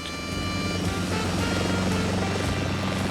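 A military medical evacuation helicopter flies with a steady, loud rotor and engine drone, continuous and unbroken with no voices.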